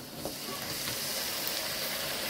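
Marinated duck meat sizzles in hot oil in a pan with fried onion and whole spices, making a steady, close, even hiss for a couple of seconds.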